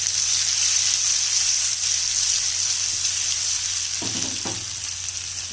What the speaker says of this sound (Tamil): இப்போ பாருங்கள், கத்திரிக்காய் நல்லா வதங்க ஆரம்பிச்சிருச்சு.